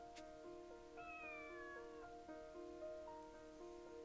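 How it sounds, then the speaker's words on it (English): A cat meows several times in drawn-out, tonal cries over a steady electronic hum and soft synthetic background music, from the video game Dragalia Lost. "If you can hear us, meow back."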